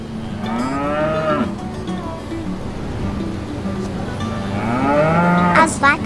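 A cow moos loudly and close, with two long, drawn-out bellows at the start and end, separated by quieter lowing and outdoor farm background.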